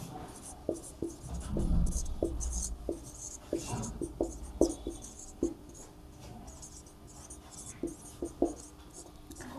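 A pen writes on paper during a class 12 maths lesson, giving quiet, close scratching strokes and soft taps in an irregular rhythm, with low muffled noise underneath.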